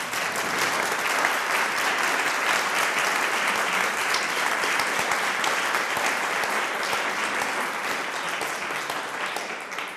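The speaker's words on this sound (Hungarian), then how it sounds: "Egy nagy tapsot." A large audience at a Hungarian church lecture gives a long, dense round of applause in honour of an elderly Jesuit priest; steady, even clapping fills the room for the full ten seconds, with no voices over it.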